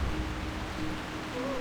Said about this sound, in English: Ah, it's raining in the jungle today.